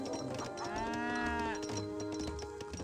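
Cattle in the Age of Empires 3 strategy game give one drawn-out, fairly loud moo with a rising then falling pitch, heard on its own with faint game ambience around it and no talking.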